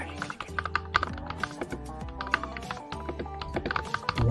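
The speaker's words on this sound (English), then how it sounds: "The RK96 comes with RK linear switches, and that's how it sounds. It's very clicky." Rapid typing on a Royal Kludge RK96 mechanical keyboard with RK linear switches, crisp close-up key clacks in a quick uneven rhythm with no talking.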